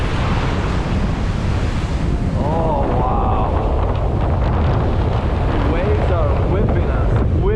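Strong hurricane winds at Sebastian Inlet beach roar steadily against the microphone, mixed with heavy surf, while excited voices call out over the loud, unbroken gusting.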